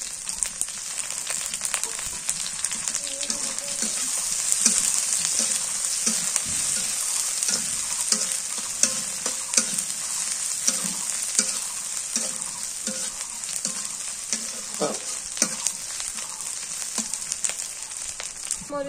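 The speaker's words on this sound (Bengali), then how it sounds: "শুটকিটাও দিয়ে দিই, শুটকিটা তেলে রাখি" Dried fish sizzles steadily in hot oil with a bright, continuous crackle, broken by occasional stirring scrapes and soft pops, close and alone throughout.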